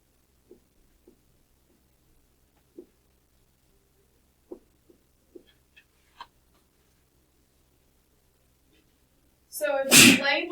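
A single loud, sharp sneeze in a math lecture classroom bursts out near the end after a stretch of near-quiet broken only by small scattered ticks and taps.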